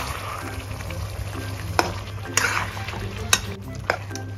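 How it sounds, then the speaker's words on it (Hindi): Marinated chicken pieces frying lightly in a kadai make a soft, steady sizzle with several sharp metallic clinks of a spoon against the pan, close and without talk. "हल्का सा फ्राई करेंगे"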